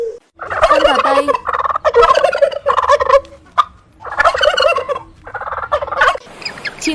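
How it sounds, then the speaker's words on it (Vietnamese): A turkey gobbles loudly and close by in a series of rapid, warbling bursts separated by brief pauses, with no voices. "Con gà tây."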